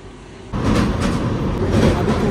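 A passenger train near Siliguri rolls past, its loud rumble starting abruptly after a quiet half second and continuing as a steady close roar of wheels and carriages.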